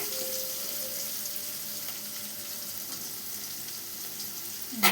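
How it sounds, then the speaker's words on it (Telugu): Garlic cloves frying in a pan for rasam give a steady, soft sizzle that runs evenly throughout, with no voices. "2 రెబ్బలు ఎల్లిపాయలు తీసుకొని కలుపుకొని ఎర్రగా వేగే వరకు ఉంది."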